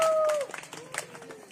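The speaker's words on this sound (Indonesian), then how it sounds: "Oke, tepuk tangan untuk kawan kita." Students clapping for a classmate after a shot put turn in a school physical education lesson, a short burst of scattered applause that fades quickly, with a teacher's voice briefly present.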